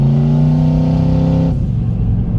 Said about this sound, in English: That was an 8th throttle, and she's wanting to build boost.